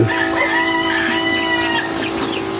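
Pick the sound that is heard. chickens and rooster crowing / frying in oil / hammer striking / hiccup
chickens and rooster crowing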